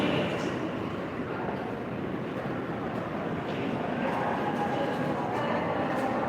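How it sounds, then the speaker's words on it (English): A Brooklyn-bound New York subway C local train in motion, heard from inside the car as a steady loud rumble and rattle of wheels on track, continuous for the whole stretch with faint squeaks and no clear talking. "This is a Brooklyn-bound C local train."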